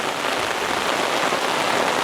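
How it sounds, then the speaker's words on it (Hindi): Heavy rain pouring on a jungle campsite, a dense, steady hiss of drops drumming on surfaces, loud and unbroken with no voices. "क्योंकि एकदम से बहुत तेज़ बारिश शुरू हुई।"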